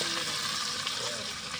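Chopped garlic and ginger fry in a pan at an outdoor winter picnic in a park, giving a brief, steady, soft sizzle with no voices.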